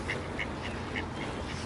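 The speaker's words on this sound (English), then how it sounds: "Look at that purple duck over there. They're calling out." Ducks at a bird park quack in a few spaced, bright calls from some distance, faint over a steady murmur of outdoor background noise.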